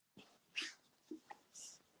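Dogs whimpering indoors, a handful of short, soft whines and snuffles spaced out across a quiet background, close by.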